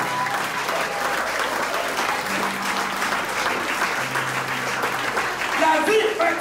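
A church congregation applauds and acclaims God at a New Year's Eve service, steady loud clapping and crowd cheering throughout, with a voice talking over it.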